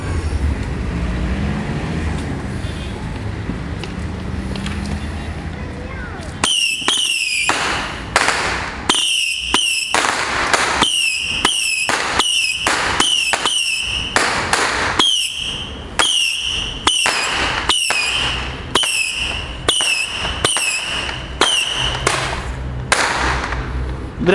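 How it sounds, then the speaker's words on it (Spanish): Fireworks rockets set off at a New Year's celebration: after a quiet start, a long rapid series of loud, close whooshing launches and sharp cracking bursts follows, one after another. "vamos a ver cómo Ángel prende los misiles"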